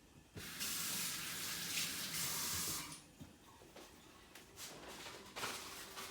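Kitchen tap water gushing into a sink as hands are washed, a loud steady rushing spray for a few seconds, then fading to softer splashes and trickles with brief bursts of flow.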